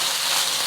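Fried rice with soy sauce and oyster sauce stirred in a hot pan, a steady soft sizzle with faint scraping, continuous and close.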